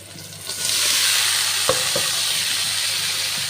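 Vegetables tipped into hot, browned oil for a Bengali charchari bring a sudden surge of loud sizzling, which then settles into steady close frying broken by a few stirring knocks. No one speaks.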